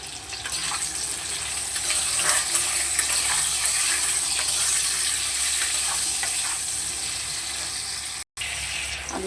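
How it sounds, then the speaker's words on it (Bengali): Potatoes seasoned with salt and turmeric frying in a pan give a steady, close sizzle, with light stirring scrapes running through it and one very short dropout near the end. "প্রথমে আলুটাকে একটু নেড়ে চেড়ে নেবো"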